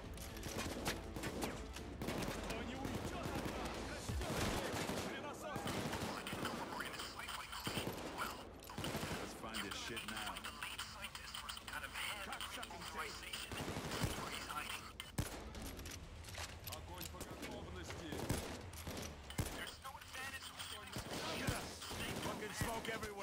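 Gunfire in the video game Payday 2: dense, continuous bursts of shooting and mechanical clatter fill the whole stretch, loud and layered with game sounds and occasional voices.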